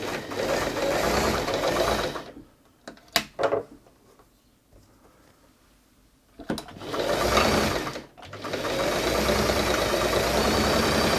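A Singer 328P sewing machine runs a straight stitch in fast, steady bursts, stopping for a few seconds with faint handling clicks before starting up again, loud and close.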